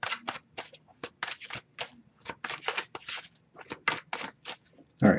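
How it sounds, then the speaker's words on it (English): Tarot cards being shuffled by hand, close and crisp, in rapid bursts of riffling and flicking with short pauses between. "I'll give it a few more shuffles."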